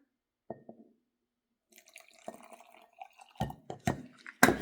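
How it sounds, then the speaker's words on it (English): Warm water, half a cup, is poured into a mixture while a paintbrush is in use for a craft project, giving soft splashes and drips that build to louder bursts toward the end, close by and with no talking. "we're going to go ahead and pour in our half a cup of warm water"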